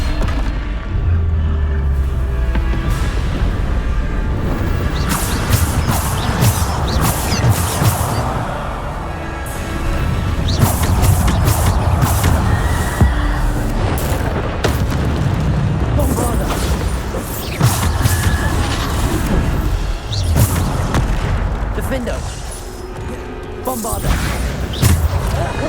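Repeated spell explosions in Hogwarts Legacy, a series of loud, close booms and thuds layered over a dense, busy game soundtrack that continues without a break.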